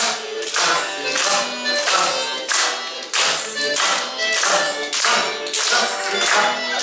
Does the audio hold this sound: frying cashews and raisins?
no